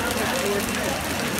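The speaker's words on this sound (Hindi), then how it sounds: "बहुत ही ज्यादा बारिश हो रही है।" Torrential rain in Kishtwar on Eid roars as a thick, constant wash of drops splattering nearby surfaces, loud and unbroken throughout, with a voice faintly present beneath the downpour.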